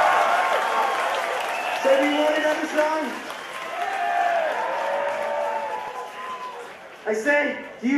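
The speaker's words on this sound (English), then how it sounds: "Give her a warm applause" At a metal concert in Moscow, the crowd applauds a young fan beneath a voice speaking from the stage, with the clapping swelling briefly near the end.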